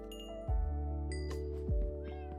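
A cat meowing in the video game Minecraft, two short pitched mews heard clearly over a sustained musical background with light chimes.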